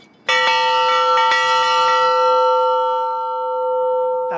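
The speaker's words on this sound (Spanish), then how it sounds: "queríamos mostrarles cómo suena esta campana" A ship's bell aboard a vessel is struck sharply twice as a man-overboard alarm, each clang ringing out loud and clear before a long, sustained metallic hum slowly decays, with no voices over it.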